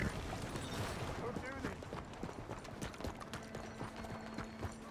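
Horse hooves clip-clopping in the video game Red Dead Redemption 2, a quick irregular patter of steps at moderate distance, mixed with other game sounds and ambience.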